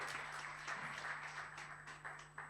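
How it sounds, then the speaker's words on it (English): Modest applause from a conference audience at a university library event, a thin patter of scattered claps over a steady low hum, fairly quiet and without talk. "Let's give them a big round of applause"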